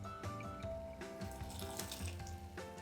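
Water runs from a tap into a pan of overnight-soaked white peas, a steady gurgling pour with bubbly splashes, close and fairly quiet.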